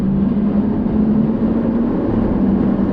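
A BMW F10 535i engine pulls under acceleration on a two-lane canyon road, a steady droning hum with road and wind noise heard from inside the cabin.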